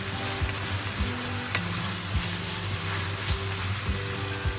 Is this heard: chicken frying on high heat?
yes